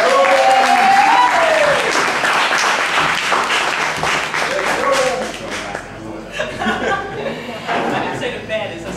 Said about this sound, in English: give the coolest poet in Atlanta a round of applause, Mr. Adam Bean.